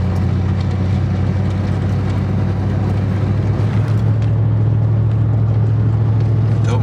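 A truck drives along a gravel road in the Nebraska countryside with a constant loud engine drone and tire rumble, steady throughout with faint crunching texture on top.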